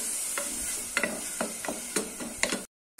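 Curry leaves and slit green chillies sautéing in a pan for a chicken pepper rasam, a steady close sizzle broken by about eight sharp scraping stirs, then a brief dead stop near the end.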